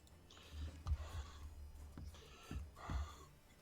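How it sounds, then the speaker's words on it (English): Heavy breathing close to a microphone during a group voice chat, with a few soft gasping or snorting breaths and puffs repeating at uneven intervals over a low hum, no speech. "Who's breathing, bro?"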